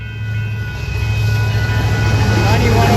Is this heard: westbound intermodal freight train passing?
yes